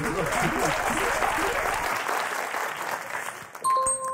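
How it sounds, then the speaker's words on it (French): A French television game-show studio audience applauds the contestants: dense, loud clapping fills the first few seconds, thins out, and then bright electronic chime tones ring at the end. "on vous applaudit très fort. Flora, Bernard."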